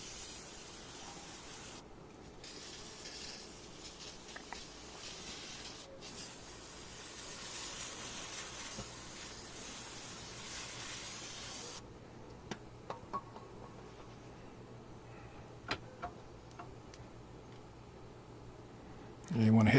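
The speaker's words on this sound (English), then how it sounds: "We're using a lot of brake cleaner." Brake cleaner is sprayed onto the rear brake and ABS area of a 1994-2004 Ford Mustang during a rotor replacement, giving a steady close hiss that stops partway, followed by faint clicks and handling noises.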